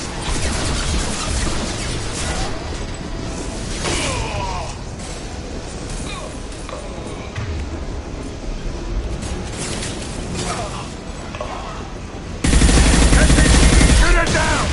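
Mass Effect 2 combat as gunfire brings down a loose fuel tank: dense, continuous rapid shooting and clatter with crashing impacts, ending in a louder, fuller burst of noise, voices speaking over the battle.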